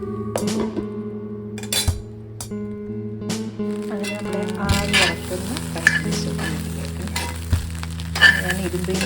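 Mixed fried rice sizzles and is stirred in an iron pan, a steady frying hiss with clinks and scrapes of the spatula throughout, close and fairly loud.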